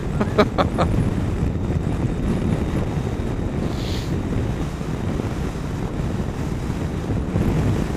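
Strong wind buffets and roars against the microphone continuously beside a Triumph Tiger 800 motorcycle, a dense rumbling rush with no voices.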